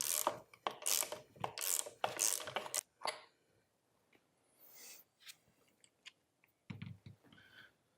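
Ratchet clicks from a 7/8 deep well socket loosening the crank pin on a Rhino Pro-Series gas post driver, in close rapid bursts for about three seconds, then sparse quieter metallic handling and a low thump.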